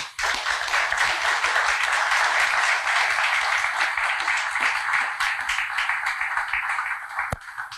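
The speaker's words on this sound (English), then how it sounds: "Please give them a round of applause." An audience applauding a school gardening initiative: sustained, dense clapping from a crowd, steady for several seconds before thinning out toward the end.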